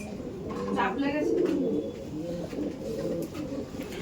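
Kaldom pigeons in a loft, with a hen panting after being handled, coo in low, throaty rolling calls that run steadily and close, while someone talks over them.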